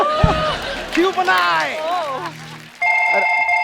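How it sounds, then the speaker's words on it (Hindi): A telephone rings near the end, a clear repeating electronic ring following a stretch of lively talk and laughter on a comedy show stage. "मेरे को फोन आ गए"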